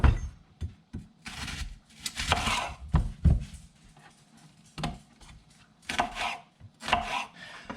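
Mushrooms are chopped with a knife on a board, giving a close, irregular series of sharp taps, with short bursts of quick cuts and brief pauses in between.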